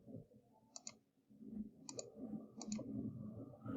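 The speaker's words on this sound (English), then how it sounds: "If I click here." A computer mouse clicks sharply several times in a Mario level editor, crisp double clicks spaced apart over a soft murmuring background.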